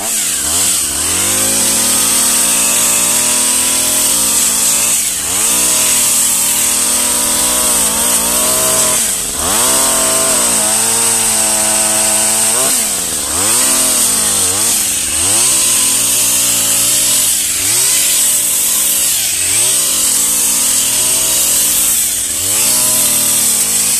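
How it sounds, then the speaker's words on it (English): A loud pole saw engine runs continuously while cutting tree branches, its pitch rising and dipping repeatedly as it bogs into wood and revs back up, close by. "People just use pole saws for doing work in trees"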